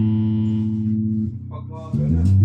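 Electric guitar played softly through its neck pickup, warm sustained chords ringing with steady harmonic tone, then shifting into a few changing notes, close and fairly loud.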